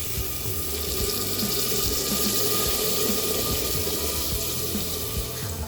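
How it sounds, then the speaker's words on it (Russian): Water pouring steadily into a kazan of fried vegetables while cooking old-Russian style braised cabbage soup, a continuous loud rushing and splashing stream, close up, with no talk. "Пришло время добавить воды."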